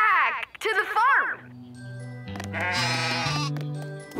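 Several sheep bleat loudly one after another in wavering cries in a PAW Patrol cartoon, followed by bright playful music with a bouncing tune.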